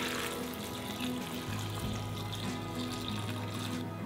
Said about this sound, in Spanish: Le ponemos agua,